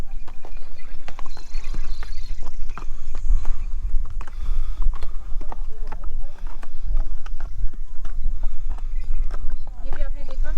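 Horses' hooves clip-clop along the mountain path to Surkanda Devi temple in Uttarakhand, with irregular near footfalls and an occasional whinny, running under steady talk throughout.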